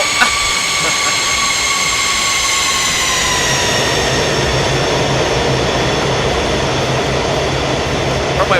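A Felis 747-200 freighter in X-Plane touches down on a down-sloping runway with a loud, sustained roar of jet engines, whining engine tones sliding downward as the rumbling rollout continues.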